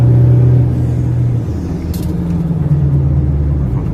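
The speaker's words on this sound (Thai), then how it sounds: "เสียงโบเพาะมาก อันนี้เป็นโบสูตรเฉพาะนะครับ" A tuned 2.2-litre automatic Mazda BT-50 Pro pickup's turbo engine rumbling and revving nearby, a steady low drone that dips then rises again, loud and continuous.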